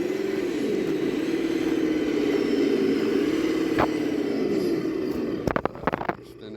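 Traxxas TRX6 RC hauler truck with a 1080 ESC, driving with a steady, wavering electric motor whine that rises and dips. A few sharp clicks and knocks come near the end.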